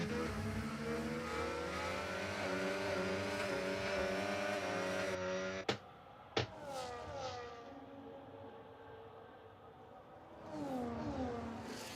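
Race car in a racing simulator at the Montreal circuit, engine screaming at high revs, then two sharp clicks and a brief dip as it brakes and downshifts through a chicane before accelerating again, loud and close.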